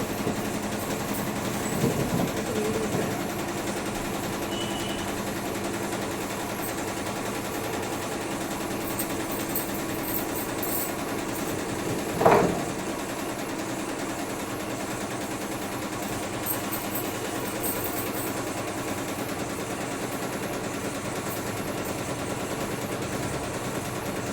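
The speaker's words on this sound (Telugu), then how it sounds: "మిషన్ పైన వర్క్ జరుగుతుంది కదా" A computer embroidery machine stitches a blouse with a steady, continuous mechanical whir and rattle, with one brief louder clack midway.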